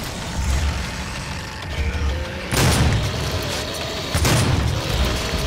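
Grenade blasts in the game Doom, two broadband booms bursting out of a low rumbling game soundscape, each followed by a brief sustained roar before it settles back down.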